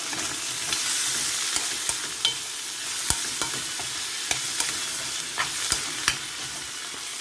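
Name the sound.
sliced tomatoes added to pan while cooking pinakbet with pork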